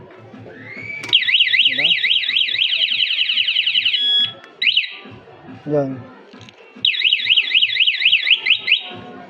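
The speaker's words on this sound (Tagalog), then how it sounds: "umiingay siya, nag-alarm na siya." A smart alarm system on an ER150P motorcycle sounds a loud warbling siren in two long bursts separated by a brief break, with someone speaking briefly in between.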